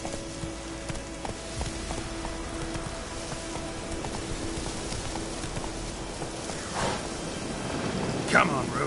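Geralt's horse Roach from The Witcher 3 gallops in steady, rhythmic hoofbeats over a rainy, noisy game soundscape, moderately loud with a constant background hum and a few brighter accents near the end.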